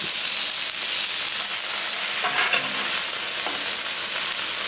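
Sausage sizzles steadily on a Camp Chef Sidekick griddle, a loud, continuous hiss with a brief scrape and a flare of crackle midway as the links are flipped.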